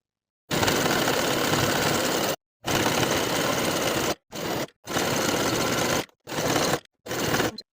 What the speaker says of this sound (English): Sew the waistband in place all the way around with a 5/8 inch seam allowance